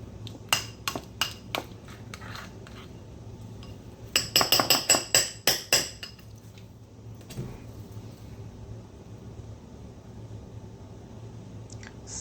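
Metal spoon scraping and clinking against a bowl while mixing salmon stuffing, a rapid cluster of sharp clanks in the middle between sparser taps, close and fairly loud with no talking.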